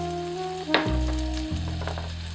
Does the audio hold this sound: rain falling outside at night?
no